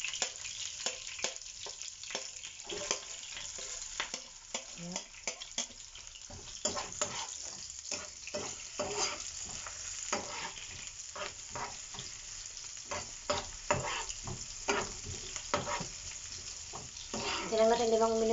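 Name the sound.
garlic frying in a pan for beef kare-kare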